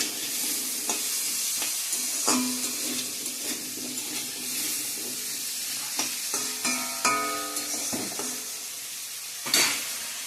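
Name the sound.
pumpkin frying and being stirred in pan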